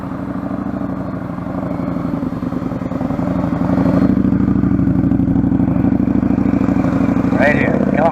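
A motorcycle rumbles steadily nearby during a one-on-one training drill, its engine note growing louder and closer as it rides straight ahead, with a brief higher squeal toward the end.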